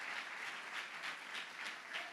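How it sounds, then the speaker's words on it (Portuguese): A church congregation claps together in praise of Jesus during a worship service, the applause faint and distant but steady, swelling gently in waves. "Dá uma salva de palmas, Jesus"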